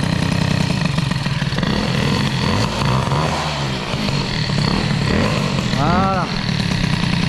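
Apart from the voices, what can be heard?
Peugeot 103 moped engine running at idle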